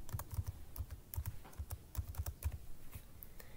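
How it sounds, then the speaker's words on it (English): A password is typed on a computer keyboard in quick, uneven bursts of light key clicks, close and fairly quiet, with short pauses between runs. "go ahead and type that in"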